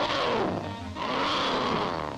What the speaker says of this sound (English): Heard the most ferocious sounding roars.